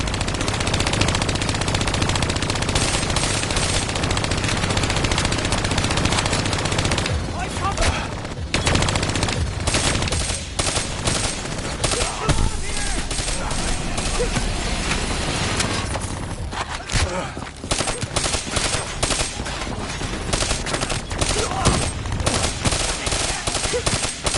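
Sustained loud gunfire from Call of Duty Black Ops 3 as robots are shot down, dense machine-gun bursts running almost nonstop with occasional short breaks and voices talking in between.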